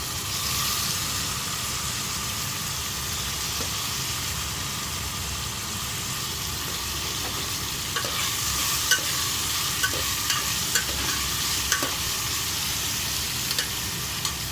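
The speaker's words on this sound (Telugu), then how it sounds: "కొంచెం మగ్గాలండి టమాటోస్, తర్వాత రవ్వ వేసుకొని ఫ్రై చేసుకున్నాం" Semolina fries in a pan with tomatoes and turmeric for tomato bath, giving a continuous low sizzling hiss under a steady rumbling hum, with repeated spoon scrapes and taps growing more frequent in the second half.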